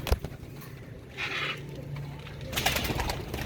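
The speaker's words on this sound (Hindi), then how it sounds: "सब माशाल्लाह से अच्छी लंबी हड्डियों के कबूतर हैं" Pigeons coo softly in low, murmuring calls, with faint rustling and patter of birds moving nearby.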